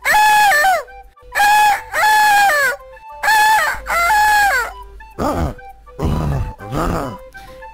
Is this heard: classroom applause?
no